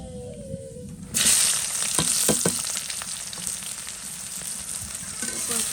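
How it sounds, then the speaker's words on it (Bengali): Chopped onions hit hot oil already spiced with cinnamon and cardamom, setting off a loud, steady sizzle after a brief quieter moment; the close, continuous frying hiss holds with faint stirring clatter and no talk. "তেলটা কিন্তু অলরেডি অনেকটা গরম হয়ে আসছে এই জন্য হচ্ছে দারচিনি আর এলাচ দিয়ে দিলাম এখন হচ্ছে পেঁয়াজ কুচি দিয়ে দেবো"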